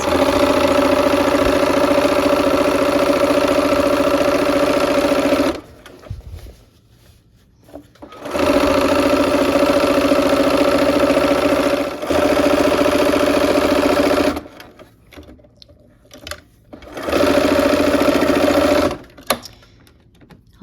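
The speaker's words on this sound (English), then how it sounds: "we are going to sew the side gray borders on" A sewing machine stitches gray side borders onto a quilt, running in three steady bursts of a few seconds each, separated by short quiet pauses.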